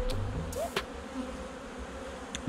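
Black honey bees buzz in an open hive during a spring inspection, a steady close drone with a few individual bees passing near, faint and continuous with no talking.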